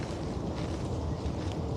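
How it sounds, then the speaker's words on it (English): Steady outdoor wind blows hard across the microphone, a continuous broadband rumble and rush with no breaks for the whole stretch. "It's windy."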